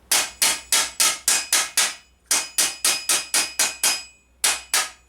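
A hammer closes a medieval bascinet visor hinge against an anvil with sharp ringing metallic blows in quick, even bursts of about six or seven strikes each, with brief pauses between sets, loud and close.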